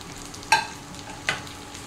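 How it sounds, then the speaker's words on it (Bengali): Onions fry for toor dal in a pan with a faint steady sizzle, broken by two sharp spatula scrapes of stirring about a second apart. "আমার পেঁয়াজটা অলমোস্ট ফ্রাই হয়ে গেছে।"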